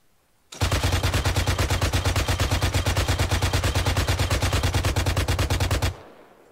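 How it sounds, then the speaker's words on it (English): Sustained automatic machine gun fire in the military video game Arma 3: a loud, steady, rapid stream of close shots lasting about five seconds, then cutting off abruptly, with no talk. "What if I lay into it with a machine gun?"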